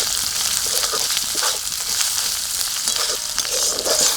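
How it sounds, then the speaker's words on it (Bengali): Onions frying with green chili, garlic and ginger paste in a pan, a dense close crackling sizzle that keeps going, with scraping stirs mixed in and no voices. "পেঁয়াজ হালকা করে নেড়ে নিয়েছি, এবার কাঁচা লঙ্কা, রসুন আর আদা বাটা।"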